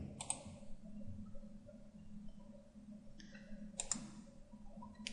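Mouse clicks from work in Inventor 3D CAD software, a few sharp isolated clicks spaced apart over quiet room noise, with a double click near the end.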